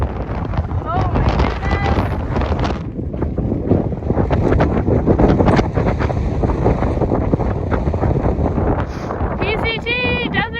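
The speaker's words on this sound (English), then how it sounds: "It's so windy, but it's so beautiful." Strong desert wind gusting against the microphone near wind turbines, a loud continuous rushing roar that runs throughout while a person talks over it.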